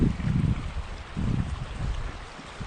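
Horton Creek in the Payson, Arizona woods, a soft steady rush of flowing water with some low wind rumble, close and continuous with no talking.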